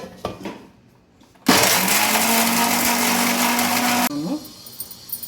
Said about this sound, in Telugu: ఇట్లా మూడు చిన్నపాయలు పొట్టు తీసుకొని బరగ్గా మిక్సీ వేసుకుంటున్నాను